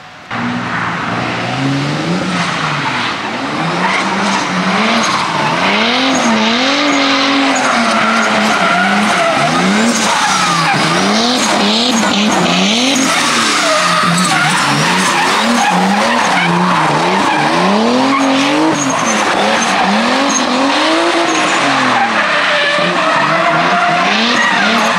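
A Pro2-category drift car skids during a test drive, its engine revving up and down in repeated swells while tires squeal continuously, loud and close for the whole stretch with no talk.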